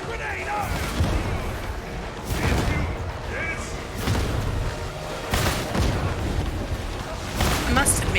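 Repeated booming blasts of gunfire and explosions during a video game firefight, several heavy bursts spaced a few seconds apart under steady game noise and voices talking.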